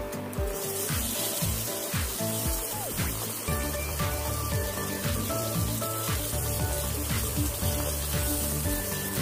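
Chopped onions sautéing in a pan with curry leaves and lentils while cooking Villupuram-style upma, giving a steady close sizzle and crackle with soft clinks and scrapes throughout, no talking.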